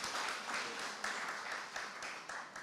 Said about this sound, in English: Another round of applause, please, for Isratech and all the friends